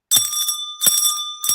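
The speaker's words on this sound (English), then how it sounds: "Let me ring bell for you." A bell rings three times in quick, bright strikes, each with a clear sustained metallic ring, close and loud with no talking.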